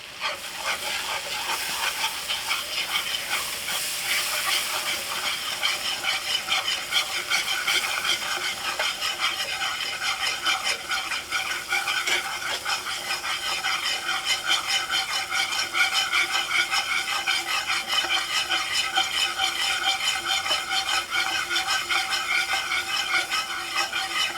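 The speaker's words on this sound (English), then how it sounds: "Go ahead and stir that around for a little bit." Seasoning stirred in a pan for country fried chicken gravy, a continuous rough scraping and hissing texture that stays steady and close throughout, with no talk.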